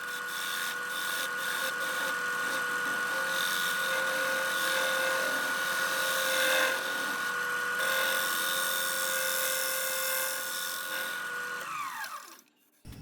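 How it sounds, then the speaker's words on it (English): A wood lathe spins a spalted sweetgum bowl while a V-gouge cuts away a center mark, giving a steady whining hum with tonal ringing and scraping texture, close and continuous, stopping abruptly at the end. "Now I use my V-gouge to remove the center mark that was left behind by the Forstner bit."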